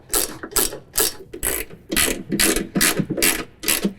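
Ratchet wrench tightening bolts and nuts while installing a storage tray on a John Deere Z735M zero-turn mower, heard as nine rapid, close clicking bursts in a steady rhythm with brief pauses between strokes.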